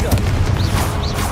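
A blast from the Confringo spell in Hogwarts Legacy, heavy booming impacts with whooshing magical swells over a rumbling low end, loud and continuous for a moment.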